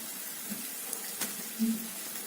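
Beef and onions sizzling and caramelizing in a hot pan, a steady close hiss with a few soft pops and no talking.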